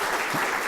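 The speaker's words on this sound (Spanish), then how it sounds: "un fuerte aplauso para Leticia" A brief, steady wash of audience clapping at a citrus-growing conference session, even and continuous with no talk over it.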